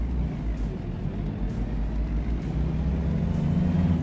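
A truck engine in a driving simulator video game, held under full throttle as a steady, loud low drone with a rumbling hum that builds slightly over a few seconds, with no talk.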